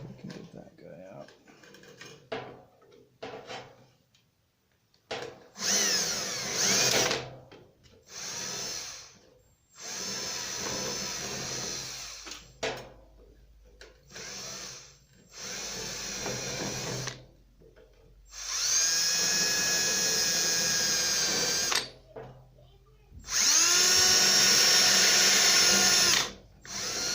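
An electric drill bores into the sheet-metal fender of a 1948 Ford F1 pickup in bursts of high whining spin, separated by pauses and short stretches of someone talking.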